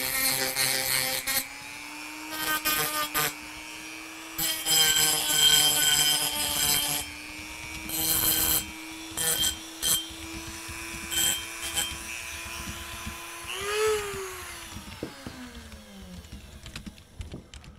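A hand file rounding off a metal corner, rasping in repeated strokes with short pauses between them, close and fairly loud, heard alone without speech.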